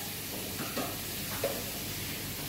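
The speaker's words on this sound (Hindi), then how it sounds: "जब हम आए तो लखन तड़का कर रहा था" Spices tempering in hot oil in a home kitchen pan for a tadka, giving a soft, steady sizzle and hiss with faint stirring clicks, heard quietly and alone.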